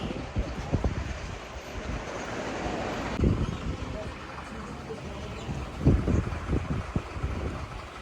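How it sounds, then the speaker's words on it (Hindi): Wind blows outdoors at a roadside stop on a trip near Srinagar, a broad steady rush with low buffeting gusts against the microphone, and voices are heard beneath it. "तो हवा चल रही है बाहर, अच्छा लग रहा है मौसम"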